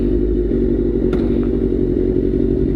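A motorcycle fitted with a Danmoto XG-1 sportbike exhaust, a loud close-up engine drone held steady with a throaty low rumble and no speech.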